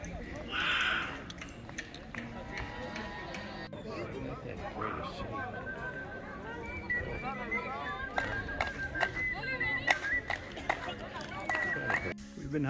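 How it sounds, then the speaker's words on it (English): Crowd noise at the Chichen Itza ruins in Mexico: a distant babble of many voices and movement, with occasional whistles and calls rising over the steady murmur of visitors. "This is some of the sound you hear of the crowds."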